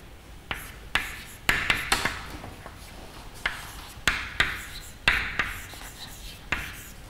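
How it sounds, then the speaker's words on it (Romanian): Chalk writing words on a classroom blackboard, with sharp taps and short scratchy strokes in an irregular rhythm, close and fairly clear with quiet room background. "O să vă scriu câteva cuvinte pe tablă."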